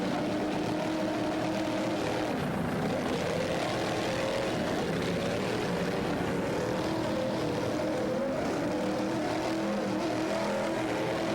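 A helicopter flies over Pier 57 at Daytona Beach during a powerboat racing event, giving a steady, fairly loud droning rotor and engine hum that holds throughout with no voices.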